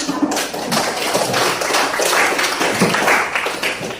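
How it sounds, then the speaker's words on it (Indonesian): Students in a classroom applaud together, a brisk, dense patter of hand claps holding steady and fairly loud throughout. "berikan aplaus untuk"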